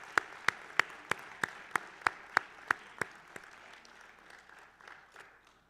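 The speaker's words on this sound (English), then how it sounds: "one last round of applause" Clapping at an evening school board meeting as students are congratulated. Crisp, evenly spaced claps ring out close by, then soften into faint, scattered clapping that dies away.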